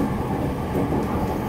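Shonan Shinjuku Line rapid service train bound for Hiratsuka, running on rails in Japan: a steady, loud rumble of wheels and carriage noise, continuous throughout with no voices.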